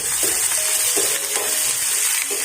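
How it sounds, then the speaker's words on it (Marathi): Curry leaves sizzle loudly in hot oil, with a dense, steady crackling hiss and a few light stirring knocks, close up and without voices. "यात कढीपत्ता टाकून घेऊ"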